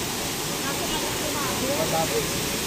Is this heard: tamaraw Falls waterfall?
yes